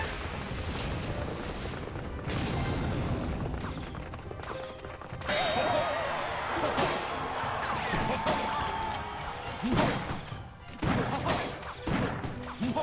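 Clash Royale battle noise as an arena tower is destroyed: a dense wash of crashes, thuds and impacts, with a heavier smash near the middle and game effects layered throughout. It plays loud and continuous and has no clear talking over it.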